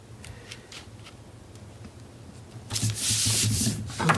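Paper scored along a line with a scoring tool for a craft pocket page, soft light scratching strokes close up, turning into a louder rubbing swipe near the end.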